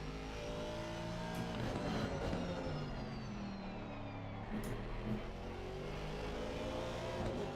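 Race car engines in an endurance race in a racing game drone steadily, with pitch sweeping up and down through gear changes as cars run close together, loud and continuous with no talking.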